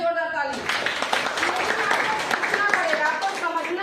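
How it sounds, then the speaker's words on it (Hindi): An indoor audience at a motivational talk breaks into dense, sustained clapping after a short burst of a speaker's voice, with the applause filling the rest of the stretch. "आप सभी के लिए जोरदार ताली"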